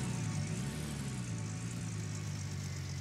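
Vehicle engine idling steadily in the video game Gold Rush the Game, a low, continuous rumble with a constant hum that holds even from start to finish with no talk.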